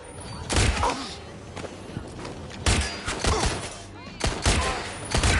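Gunfire in the video game Watch Dogs Legion: three loud bursts of shots at roughly even intervals, each with a thudding low end, over a steady bed of game ambience and faint voice chatter.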